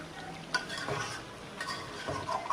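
Spicy, oily chicken curry is stirred and reduced in a pan, with scraping spoon strokes and soft clinks at a gentle rhythm over a faint sizzle.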